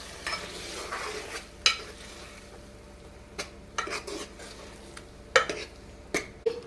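Grated bottle gourd frying in ghee for a sweet halwa, stirred in a pan with a low steady sizzle and a few sharp scrapes and clinks of the spoon against the pan, no voices.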